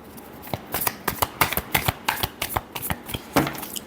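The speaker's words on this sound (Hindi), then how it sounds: "last shuffle" Tarot cards are shuffled by hand in a rapid, close run of papery riffles and slaps that keep on for several seconds, with no voice over them.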